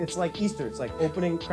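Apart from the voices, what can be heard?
None of the usual background noises is heard.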